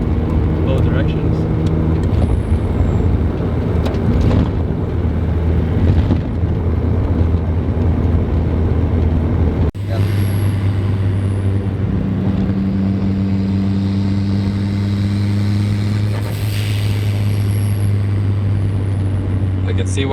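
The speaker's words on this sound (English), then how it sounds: "Literally a street legal race car." A street legal race car engine idles and drones steadily at close range, a deep rumble with a shift in pitch partway through, heard under people talking and wind.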